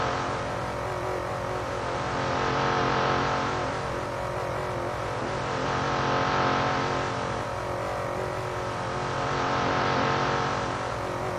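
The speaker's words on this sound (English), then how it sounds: "So as we watch the safety car do burnouts on stream" A safety car in the Assetto Corsa racing game does burnouts, a continuous high-revving engine drone with slow, swelling waves of volume that stays loud and steady throughout.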